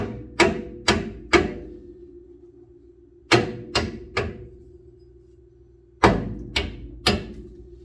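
A hammer taps a ball joint bolt through during a drum to disc brake conversion on a 1957 Chevy wagon, giving three groups of three sharp, ringing metallic strikes that ring out close and loud.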